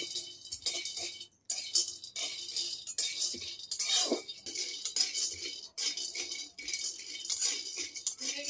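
Peanuts lightly dry-roasted over low heat in a kadai, rattling and clinking softly against the metal as they are stirred, in quiet irregular bursts.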